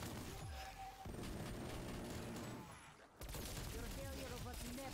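Rapid machine gun fire in a Call of Duty zombies match: dense, loud bursts of shots over busy game noise, with a short lull before the firing resumes.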